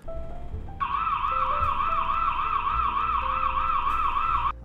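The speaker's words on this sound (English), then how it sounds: "It will continuously play the siren noise for exactly 30 seconds, or until you push clear alarm." An alarm siren from a Uniview Tri-Guard 2.0 180-degree security camera, a loud continuous warbling electronic tone that rises and falls in a steady rapid cycle, sounding close and alone over faint background hum.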